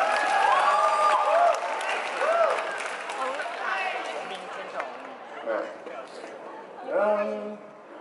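Audience applause for a pair of singers at a hall singing contest, a broad wash of clapping from a crowd in an indoor venue, with voices talking over it.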